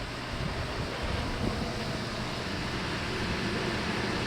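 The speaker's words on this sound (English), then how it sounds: "this thing is blowing cold air" Portable 8,000 BTU air conditioner blowing cold air inside a Jayco RV, a steady broadband whoosh of airflow heard close up and fairly quiet, with no talking.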